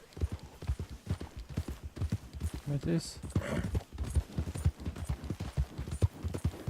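Horse hooves clip-clop in a steady rapid rhythm in Red Dead Redemption 2, close and continuous beneath someone speaking German.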